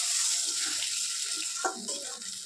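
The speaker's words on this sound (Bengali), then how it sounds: "এটা কষানো হয়ে গেছে, এর মধ্যে এখন আমি জল দিয়ে দেবো।" Water is poured into a pan of egg curry, a continuous close splashing pour that tapers off, with a few light clatters near the end.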